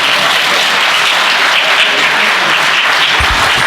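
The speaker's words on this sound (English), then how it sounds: "give me a big round of applause." Audience applause at an African business roundtable, a dense, even wash of clapping from a room full of people, loud and continuous throughout.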